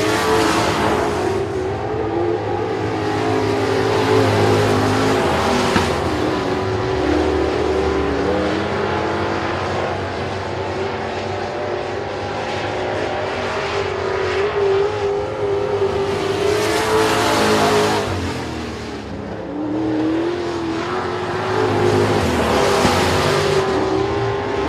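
Race cars roar around the Sabine Speedway oval, engines droning loudly and continuously with rising and falling pitch as cars pass close by and fade into the distance.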